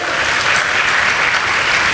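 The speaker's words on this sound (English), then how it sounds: "Let's have a round of applause for these amazing girls" An audience applauds a girls' dance school troupe after their performance at a school gala, a loud, dense, steady wash of clapping that holds at full strength for the whole stretch.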